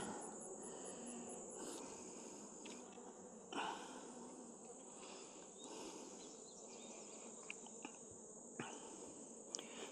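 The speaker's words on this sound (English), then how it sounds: "I got my first guard bees a little angry" A steady, dense buzzing of agitated honeybees at an opened hive fills the background, with occasional louder passes close by; no one speaks.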